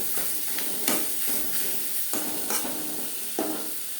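Pointed gourd frying in a pan produces a loud, continuous hissing sizzle up close, with periodic sharp scrapes as the pieces are stirred.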